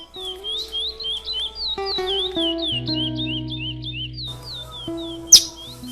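Caged wild songbirds at an amateur breeder's home chirp in quick, repeated high notes, a steady near run of calls over faint lower tones, ending with one sharp louder burst.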